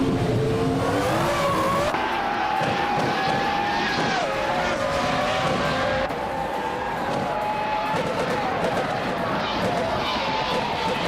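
Several race cars in a video game roar steadily through a race, with engines whining and shifting pitch as they overtake, under continuous commentary.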